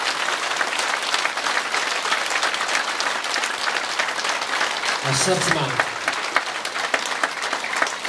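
A congregation claps vigorously for Ishwar, a thick continuous wash of applause throughout, with a voice speaking briefly over the clapping near the middle.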